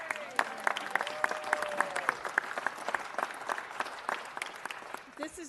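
A council meeting audience breaks into dense, sustained applause that rolls on for several seconds, with a voice and some crowd noise mixed in under the clapping.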